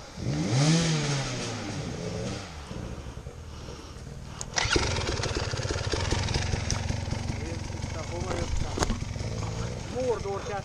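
An enduro motorcycle engine revs and sputters on rough jungle terrain near a drop-off, a steady close mechanical drone with surges, while people talk and shout over it.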